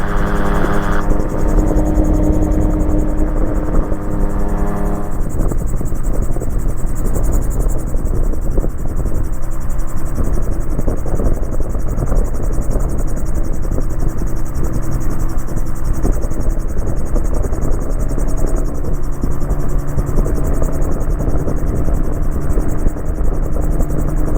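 A Magni M16 gyroplane engine droning steadily through a climbing turn, a loud continuous buzzing hum with a rotor-like texture that never lets up.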